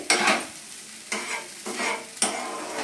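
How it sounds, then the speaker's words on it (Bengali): Mashed pointed gourd in a wok is stirred continuously, with distinct scraping strokes of a spatula about every half second to second over a light sizzle, close and moderately loud. "সেই জন্য কন্টিনিউয়াসলি এটাকে নাড়িয়ে যেতে হবে যাতে কড়াতে লেগেই না যায়"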